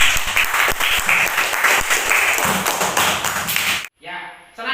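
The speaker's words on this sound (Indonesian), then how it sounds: "Tepuk tangan buat Mbak." Classroom applause in a primary school lesson, a burst of dense clapping from many pupils lasting several seconds, close and loud, ending abruptly as a voice starts.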